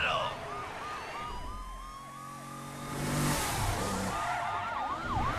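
Police sirens wail in The Crew racing game, several cars' sirens sweeping up and down in repeated cycles, fading then returning louder near the end over engine rumble.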